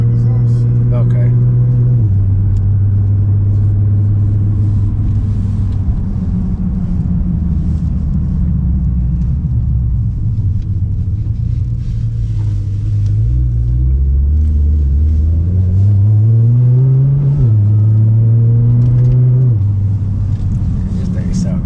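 A 2010 Nissan GT-R with a tune, lowered suspension and an Acapulco exhaust idles with a deep, loud rumble and is revved up and down several times, with people talking over it.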